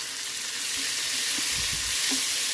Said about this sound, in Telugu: కొంచెం టమాటాలు ఈ మామిడికాయ కూడా మగ్గేదాకా వేడి చేద్దాం కొంచెం.